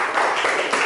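Classroom applause: a short burst of many hands clapping together at close range, dense and steady, lasting under a second.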